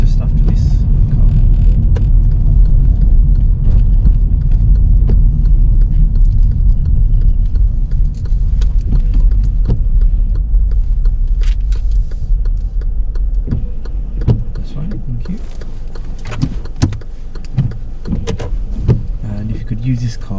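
A car drives on a road during a driving test and then pulls over to park on the left, with steady loud engine and road rumble easing into quieter idling and small clicks and bumps.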